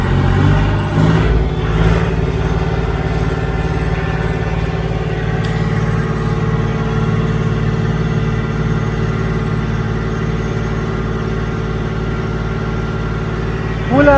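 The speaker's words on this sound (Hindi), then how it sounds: "2000 आरपीएम करने वाले हैं, ट्रैक्टर के फुल आरपीएम करेंगे" A John Deere 5039 tractor engine runs close by at a steady full 2000 rpm, a loud, constant diesel drone with a low throb that holds unchanged for the whole stretch.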